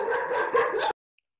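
A pet dog barking indoors, a quick burst of several close, loud barks in under a second, then abrupt silence.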